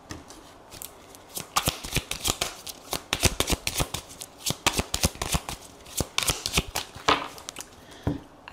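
Tarot cards shuffled by hand in rapid, crisp riffling flutters, loud and close, continuing steadily for several seconds with no voices.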